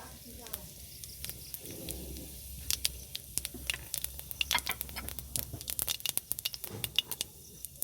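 A teaspoon of whole cumin seeds hits a spoonful of hot white oil in a heated wok, giving soft crackling pops and spitting that grow busier and sharper toward the end, fairly close but quiet.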